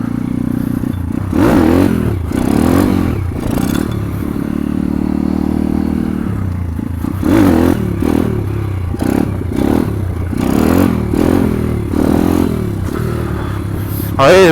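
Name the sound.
140 cc motorcycle riding during wheelie practice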